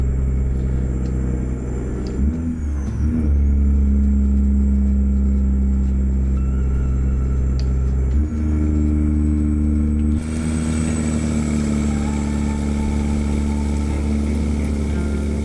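A 1000-horsepower truck engine labouring under a cattle quad-train load in a trucking sim, a loud steady low drone with strained rumbling and brief dips and gear-change shifts along the way.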